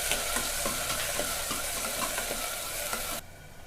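Long-sliced onions sauté in a pan for mochai kuzhambu, a dense close sizzle broken by rhythmic stirring scrapes, stopping abruptly near the end with no voices.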